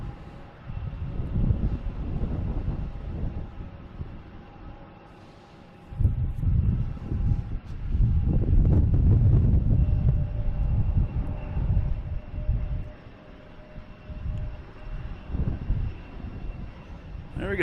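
FedEx jet on runway 27 at Boston Logan spools up for takeoff, a deep rumbling engine roar that rises and surges for several seconds with wind buffeting the microphone.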